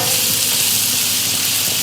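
Pancetta and leek sizzle steadily in a hot frying pan, a dense, even crackling hiss close to the microphone with no talking.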